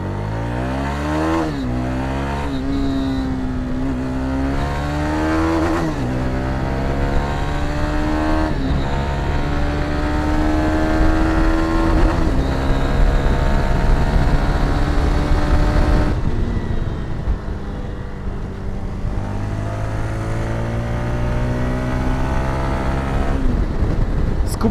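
Zontes VX350 motorcycle engine revving hard while riding, the pitch climbing through the gears, dropping at each shift and climbing again, loud and close for the whole stretch with no talk.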